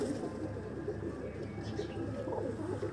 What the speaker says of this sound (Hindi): 11 परों वाला कबूतर